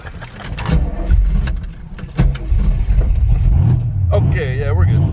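A 500hp truck engine rumbles and revs up close, falling flat in a failed burnout attempt, with low engine drone and surges under people talking.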